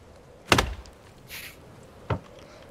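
Locked door in The Forest survival game gives two short, sharp rattling thunks about a second and a half apart, close and clear over a quiet background.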